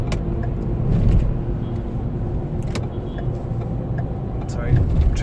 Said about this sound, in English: Sorry, traffic again.